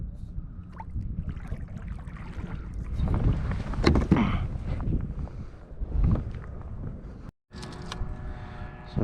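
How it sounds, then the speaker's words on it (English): Wind buffets the microphone while drifting in a kayak on open inshore water near Boca Grande, Florida, a gusty rumble swelling and fading with soft splashes and a brief dropout. "This wind's gonna blow us right down this flat"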